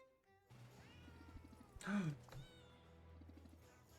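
Cats meow softly in the video game Potionomics, one short mew standing out over a quiet background of game music.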